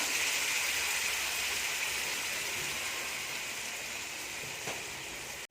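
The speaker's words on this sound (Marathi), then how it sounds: "थोडं पाणी टाकून घेऊया" Water poured into a pan of chana masala produces a steady, rain-like hiss that stays even and close throughout, easing slightly toward the end.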